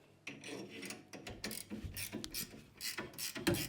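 Ratchet wrench tightening universal U-bolts on a car rear axle swap, a Nova rear end going into an LS-swapped Camaro: close, rapid bursts of metallic clicking and clattering, alone with no talk.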